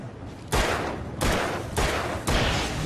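Four loud revolver shots fired in the video game Alan Wake, spaced roughly half a second apart, each a sharp blast with a long, ringing decay.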